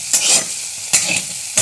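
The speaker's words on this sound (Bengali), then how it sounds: "আলুগুলো একটু লাল লাল করে ভাজা করে নিলাম" Potato pieces fry in a hot pan and get stirred, with a steady sizzle broken by three sharp scraping stirs near the mic.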